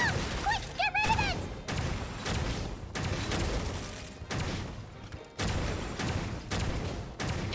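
A bomb in the Genshin Impact game goes off in a rapid chain of loud, crackling blasts that keep going throughout, with a short voiced exclamation near the start.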